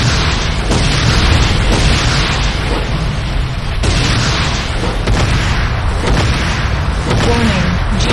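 Heavy explosions and booming impacts pound a GDI Tiberium Refinery under attack in the Renegade video game, a dense continuous roar of blasts with a brief break near the middle.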